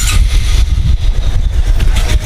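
A Honda Supra 125 fuel-injected motorcycle engine idles after a full engine rebuild, a loud, close, steady putter with no speech.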